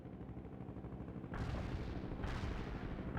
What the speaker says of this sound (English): I have incoming mortars!